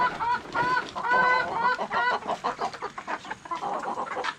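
Several native chickens clucking and squawking close by, overlapping calls in uneven bursts, loud and busy.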